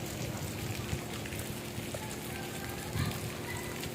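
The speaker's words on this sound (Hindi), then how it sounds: "बूंदाबांदी है देखिए" Light drizzle falls outside a house where building work is under way, making a faint, steady patter with a few louder drops.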